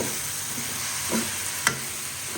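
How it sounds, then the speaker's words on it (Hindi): Okra hits a pan of fried spices and onions, raising a steady, close sizzle with a couple of faint stirring scrapes over it. "यहाँ पे मसाले और प्याज भून चुके हैं, तो माशाल्लाह से यहाँ पे डालेंगे भिंडी"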